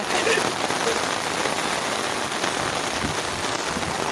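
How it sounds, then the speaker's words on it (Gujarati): Steady rain patters on a nearby surface, a constant dense hiss of drops with no other sound standing out. "વરસાદ ચાલુ છે મિત્રો ચાર દિવસથી અખંડ મોજમાં ચાલુ છે"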